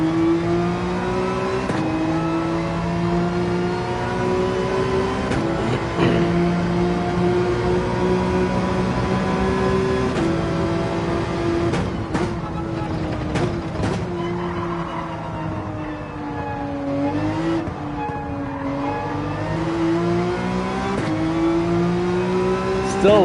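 A Porsche 911 race car engine in Gran Turismo 7 races at Dragon Trail in the Manufacturers Cup, sounding loud and sustained, climbing and dropping in pitch through repeated gear shifts and braking for corners.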